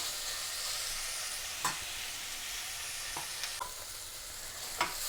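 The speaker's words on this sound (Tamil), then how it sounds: "வெங்காயம் இவ்வளவு வதங்கினா போதும் குருமாவுக்கு" Onions sauté in oil in a pan for a potato kurma, giving a soft, steady sizzle with a few faint clicks of stirring and no talking.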